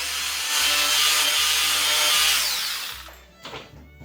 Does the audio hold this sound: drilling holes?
yes